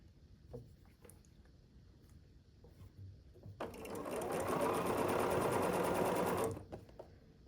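A sewing machine stitches quilt squares in a continuous chain, running steadily for about three seconds after quieter handling sounds of fabric and pieces, close and fairly loud.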